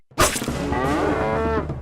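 A cow on a local farm in Costa Rica gives one long, loud, close moo that starts abruptly and holds steady to the end, with no talking.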